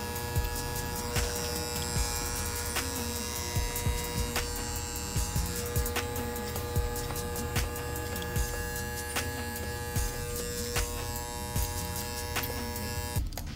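Electric hair clippers buzz continuously while cutting a low skin fade, a steady close hum with small clicks and shifts in pitch as the blade moves through hair.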